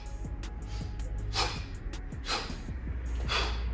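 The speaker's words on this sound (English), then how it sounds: "Listen to me breathing in the swing" Forceful breaths from a person doing kettlebell swings, repeating in a steady rhythm of sharp bursts about once a second over a constant low hum, close up with no talking.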